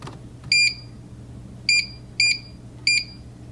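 Four short electronic beeps from an air fryer being set to a 20-minute timer, one beep alone and then three more in an evenly spaced run, loud and close over a quiet hum.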